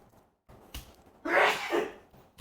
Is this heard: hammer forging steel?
no